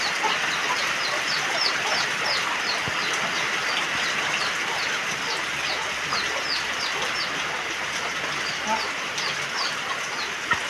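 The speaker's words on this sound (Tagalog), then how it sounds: "Kakaawa naman mga manok." Several chickens cluck and chatter continuously nearby, overlapping calls over a steady background hum.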